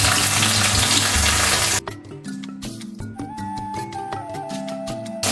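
Curry leaves hit hot oil in a pan while an omelette is being prepared, giving a loud, dense sizzle that drops after a couple of seconds into a quieter crackle with light clinks.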